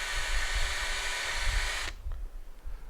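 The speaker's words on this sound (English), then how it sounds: "When drilling down" Power drill with a brad point bit boring an entrance hole into the spline of a chair with a pressed cane seat: a loud, steady high whine for nearly two seconds, cutting off abruptly into quieter low rumbling and handling noise.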